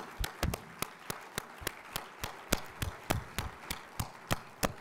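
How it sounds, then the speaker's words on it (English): Scattered handclaps from an audience at an Atlanta Press Club Hall of Fame event, sharp individual claps spaced irregularly rather than a dense ovation, fairly quiet and heard alone. "give them a round of applause"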